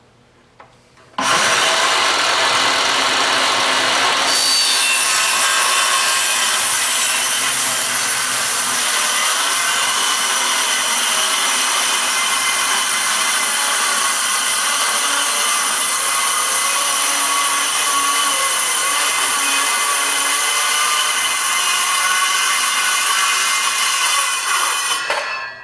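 A power saw bites into thick MDF with a loud, sustained, close-up whine that starts abruptly, shifts slightly in tone a few seconds in, and runs steadily to the end before cutting off.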